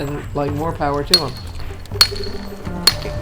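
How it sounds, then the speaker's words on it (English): A hammer strikes a chisel against stone during rock sculpting, giving three sharp, ringing metallic taps about a second apart while someone talks over them. "The man sculpts rocks, old school style, hammer and a chisel."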